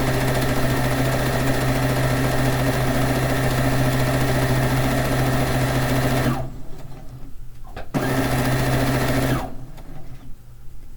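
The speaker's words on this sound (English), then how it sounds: "I cut it, and that's what I'm sewing right now" A sewing machine stitches a piece of a fish quilt, running loud and steady for about six seconds, pausing, briefly restarting, then stopping again near the end.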